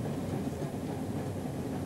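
Rumbling of a train carriage rolling along the rails, a steady, continuous low roar with no voices, heard from inside the moving coach on the line to Lymington.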